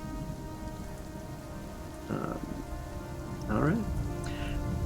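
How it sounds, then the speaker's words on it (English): Steady rain pours off a roof in a dense, continuous hiss, with a brief spoken remark and a few faint clicks over the downpour. "You hear the rain pouring off the roof"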